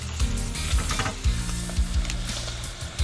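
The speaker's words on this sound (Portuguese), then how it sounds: "A gente deixa a linguiça fritando enquanto corta os outros vegetais." Sausage (linguiça) frying in oil in a large pan, a continuous sizzle with rhythmic scraping stirs repeating about every half second, close and without talk.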